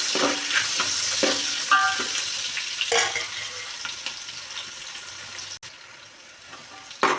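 Onions for egg biryani fry in a pan while being stirred, a steady sizzle broken by scraping spoon strokes against the metal, close and fairly loud with no voices.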